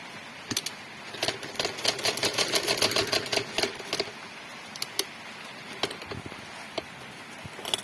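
A sewing machine stitches a shalwar seam, going back over it to reinforce the stitching, in short mechanical bursts of clattering with brief pauses in between.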